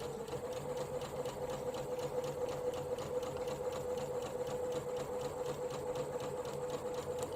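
A sewing machine stitches an elastic waistband, running steadily with a fast, even mechanical whir and rhythmic needle clatter, close but quiet, with no talk.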